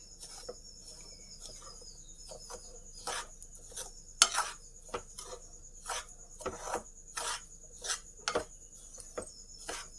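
Coconut laddoo mixture being stirred in a pan, with repeated scraping and rasping strokes of a spoon against the pan in an irregular rhythm, moderately close and free of talk.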